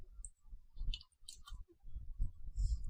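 Scattered keystrokes on a computer keyboard, a few quiet, uneven clicks and taps close to the microphone with short pauses between them.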